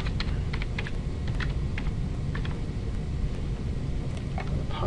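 A password is typed on a computer keyboard in a quick run of light clicks, close but partly buried under a loud, steady hiss of background noise.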